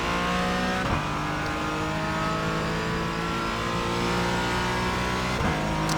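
Porsche Cayman GT engine in iRacing held at full throttle around Road America, a loud steady high-pitched drone with harmonics climbing slowly, broken by two quick gearshift blips near the start and end.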